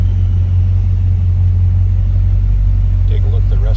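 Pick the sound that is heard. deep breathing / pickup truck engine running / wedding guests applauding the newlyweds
pickup truck engine running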